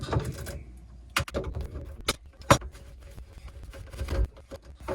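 A garbage disposal fitting under a kitchen sink loosened with a 9/32 bit driver: irregular metallic clicks, ratcheting and clunks, several sharp knocks over a low background, close up with no talking.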